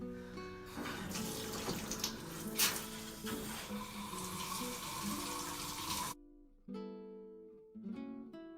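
A bathroom faucet pours water to wet a child's hair, a full, loud gush that runs for several seconds, then cuts off and gives way to a few softer splashes and drips.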